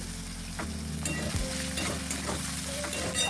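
Chopped capsicum sizzles steadily in an oil-filled pan for a cauliflower Manchurian while a spoon scrapes and stirs it in a few distinct strokes, close and continuous with no talking.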